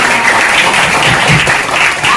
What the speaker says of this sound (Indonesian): Oke, tepuk tangan untuk semua.